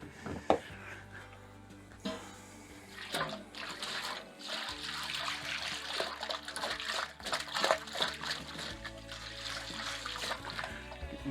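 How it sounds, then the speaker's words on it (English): Water sloshes and splashes inside a brewing fermenter being shaken for an Irish stout kit, with irregular bursts of liquid churning and dribbling, close and fairly quiet. "So I'll put another litre of water in there. And shake it all about."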